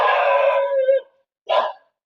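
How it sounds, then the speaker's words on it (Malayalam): At a house, a dog gives a drawn-out, yelping bark close by, then a short second bark after a brief pause, with nothing else audible around it. "നായി ഉണ്ട്, അതുകൊണ്ട് ഉള്ളോട്ട് പോകാൻ പേടി."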